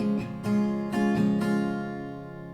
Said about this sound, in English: which is the C, one string around will sound like this.